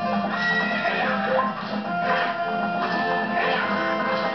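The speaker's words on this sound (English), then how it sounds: "what's up with that horse? Is that Epona" Epona, the horse in The Legend of Zelda: Ocarina of Time, lets out a loud synthesized whinny that rises and falls across several seconds over the game's background music.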